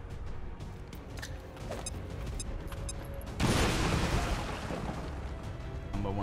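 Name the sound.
grenade explosions and gunfire in a video game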